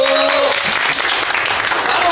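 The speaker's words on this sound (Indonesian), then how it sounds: "jadi gue semangatnya boleh tepuk tangannya dulu" A group of people clapping together in a brief, dense burst of applause, with voices mixed in.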